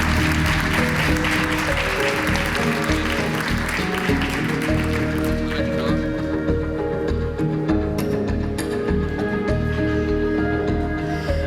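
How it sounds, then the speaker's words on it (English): Applause for panelists at a security forum energy and climate session runs under loud, sustained music, the clapping dense at first and thinning out as the music continues. "Big applause for our panelists"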